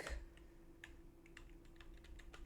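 Typing on a computer keyboard at a command prompt: scattered light key clicks, close but quiet, over a steady low hum.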